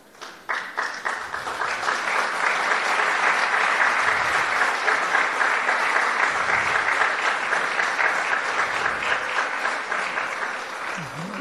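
An audience at a lecture bursts into loud, sustained applause that starts with a few scattered claps, swells into a dense, even roar of clapping for about ten seconds, then eases slightly.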